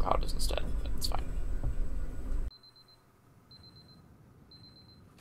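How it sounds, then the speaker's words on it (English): Digital alarm clocks in the video game Superliminal beep in short, evenly spaced high bursts after a loud, noisy opening, three clear pulses ringing out over a quiet background. "I don't remember buying these many alarm clocks."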